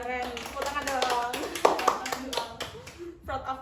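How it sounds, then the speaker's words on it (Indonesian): A small group claps hands during a student podcast, quick scattered claps mixed in with continuous talking voices. "Tepuk tangan dong."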